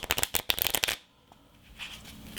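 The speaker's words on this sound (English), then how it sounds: "Going to riffle off about half the deck, pass it over, pass it up, got both biddle grip, going to shuffle off." A deck of playing cards is riffle shuffled up close: a dense, crisp flutter of cards snapping together for about a second, then a quieter stretch of faint handling noise.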